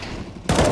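A burst of rapid gunfire in the video game Driv3r, loud and close, starting abruptly partway through after a low rumble.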